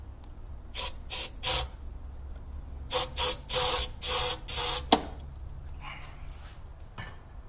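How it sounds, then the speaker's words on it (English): Short hissing aerosol bursts of starting fluid sprayed into a Datsun Z engine with a dead fuel pump: three quick spurts, then a run of five longer ones, close and fairly loud in a quiet garage. "I'm gonna try to put a little bit of starting fluid in this thing"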